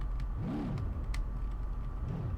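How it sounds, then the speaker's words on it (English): A Shelby GT500 muscle car's engine in BeamNG.drive hums at a steady low drone, with two rising-and-falling rev swells, clear and alone without talk. "The engine sound for this car isn't the greatest, though, unfortunately."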